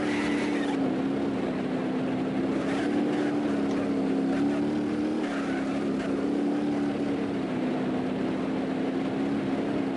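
A car driving in BeamNG.drive on long straight Nevada roads, a steady droning engine note holding near one pitch with slight rises, continuous and moderately loud with wind-like noise.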